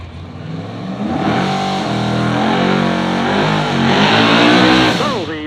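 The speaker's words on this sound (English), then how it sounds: "Here comes the small block Pro Charge Chevy 2" A small-block Pro Charge 1967 Chevy II drag car engine revs loudly and continuously, its pitch climbing and sweeping near the end, with crowd and announcer-style ambience beneath.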